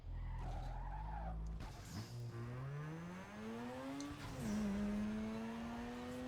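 A car drifts in the racing game Need for Speed Underground 2, tires squealing in long rising, sliding tones over a steady engine drone, loud and continuous with no talk.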